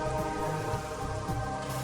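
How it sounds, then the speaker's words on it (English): Rain falls steadily in an indoor room in the video game Metroid Prime Remaster, a continuous patter layered over a sustained tonal ambient drone. "So it rains in this room"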